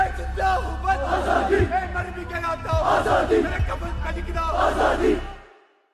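A large crowd chants "Azadi" in repeated, rising waves of voices, loud and rhythmic, cutting off abruptly at the end.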